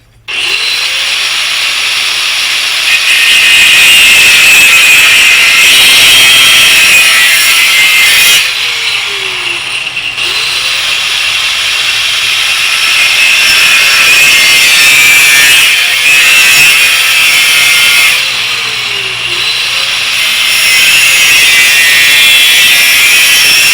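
Power saw trimming wood for a Chevy tailgate bench, running loud and steady for nearly the whole span with a few brief dips and swells in pitch as the blade works, outdoors in wind and rain, no talking.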